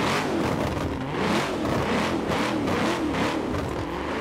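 A car engine in Forza Horizon 4 hums and revs continuously inside a tunnel with an echoing, enclosed quality, its pitch rising and falling in waves.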